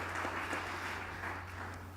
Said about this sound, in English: a loud round of applause for yourselves for taking the time out and participating in our first ever conclave.